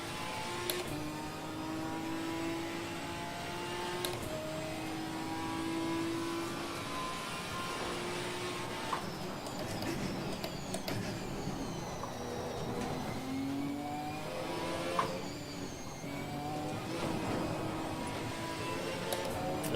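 A Ginetta race car engine revs in a racing video game at Imola, the tone climbing and dropping through repeated gear changes as it hits the limiter, loud and steady throughout with a few sharp clicks.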